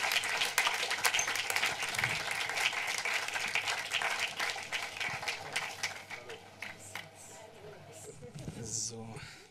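An audience applauds a speaker at an evening book presentation and talk in Frankfurt, a dense, sustained clapping that slowly thins out while a voice speaks over it.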